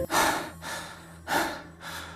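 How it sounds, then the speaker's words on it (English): Ragged breathing as a sound effect in an audio story, with heavy, close gasping breaths. There are two long breaths, then two more, with no talk over them. "His breathing was ragged"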